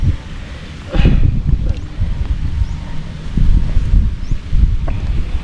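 Strong wind buffets a microphone outdoors by the water: loud, gusty low rumbling and rustling that surges in bursts throughout, alone with no clear voice.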